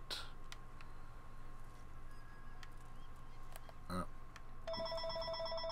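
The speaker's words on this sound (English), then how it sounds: "And the phone rings again." A telephone ringing in the Sniper Elite 4 video game, a repeated electronic bell burst that comes in near the end over a steady background of game ambience.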